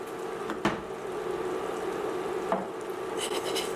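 Rice stir-fried with sesame oil and ground pepper, a soft steady sizzle in a pan broken by a couple of sharp utensil scrapes and clinks, with quick stirring rustles near the end.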